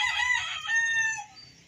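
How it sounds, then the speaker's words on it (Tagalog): A rooster crows loudly in a small backyard coop, one long harmonic call lasting over a second that tails off, with faint clucking and low ambient rumble beneath. "iikot ko kayo sa aking munting manuka"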